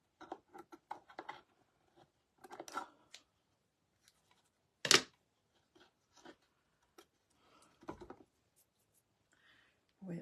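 Scissors give a small piece of leaf a quick snip during a wooden box craft, a single short sharp cut that stands out between soft scattered handling noises and rustles on a quiet workbench.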